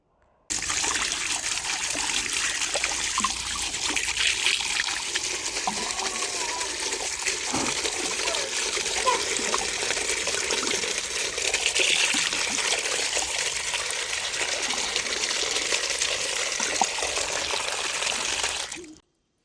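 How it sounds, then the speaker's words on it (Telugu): Water pouring steadily into a bucket to wash freshly harvested broad beans, a continuous close trickling and splashing that runs unbroken for about eighteen seconds, with no talk. "ఇప్పుడైతే వాటర్ వేసేసి మంచిగా క్లీన్ చేసేస్తున్నాను"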